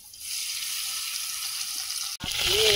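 Oil in a wok gives a steady, even hiss before lata fish go in, then a sharp break and a louder, fuller sizzle as the fish hit the hot oil, close by.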